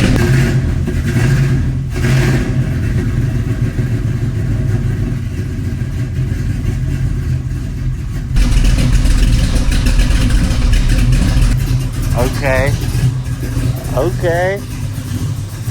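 A Chevrolet Nova project car's engine turns over and runs, a steady mid-pitched rumble that rises as it is revved, with a brief spoken word over it.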